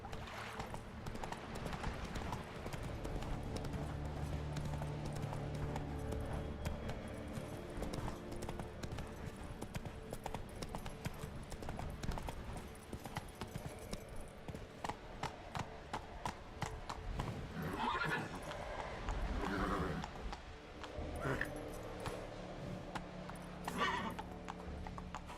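Horse hooves gallop in The Witcher 3 video game, with a steady clip-clop rhythm and an occasional whinny over a constant background of game ambience, at moderate loudness without talk.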